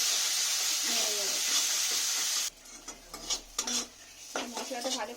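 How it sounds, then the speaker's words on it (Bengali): Potol posto curry being stirred in a pan, with loud steady sizzling at first, then quieter scraping and clinking stirs in irregular bursts near the microphone. "দিয়ে ভালো করে আমি একটু নেড়ে নেব।"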